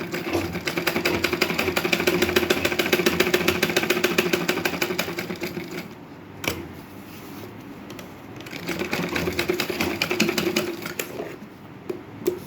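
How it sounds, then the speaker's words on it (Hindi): Sewing machine stitching a handmade slipper, rapid regular needle clatter in two long bursts with a quiet pause between, close and clear with no talk. "सिलाई मैं एक और लगा देती हूँ ताकि अच्छे से दब जाए।"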